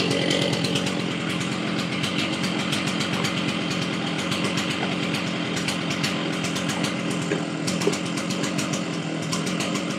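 A Stihl MS660 chainsaw runs loud and close, its engine held at a steady high buzz with fast rhythmic pulsing throughout and small surges in speed.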